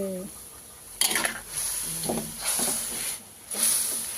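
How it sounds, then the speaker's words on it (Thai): Sand whiting stir-fried with spicy Thai herbs and eggplant sizzles in a hot pan, with bursts of loud hissing as the soft fish is gently stirred, rising and fading several times over a low background. "แต่เราต้องคนเบาๆนะคะ เพราะว่า ปลามันเนื้ออ่อนมันจะ มันจะเละนะคะ"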